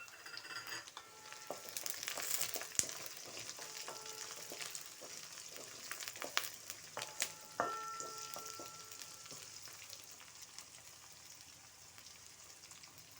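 Onions, curry leaves and green chillies sizzle in a pan, a steady close crackle and spatter with occasional stirring scrapes, going on without talk.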